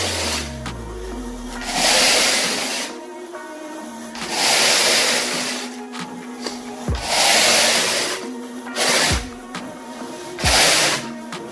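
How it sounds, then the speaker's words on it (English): A long carpet rake drags its teeth through carpet fiber in repeated strokes, each a loud, close rasping sweep lasting about a second, with brief mechanical hum between strokes. "Look at how those teeth cut through that carpet fiber"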